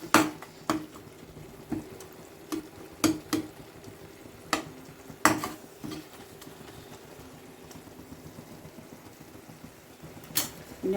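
Onions and spices sautéed and stirred in a frying pan for a home-cooked Tuesday lunch, with a steady low sizzle broken by sharp, irregular scrapes and clinks of the spoon against the pan, close and fairly loud.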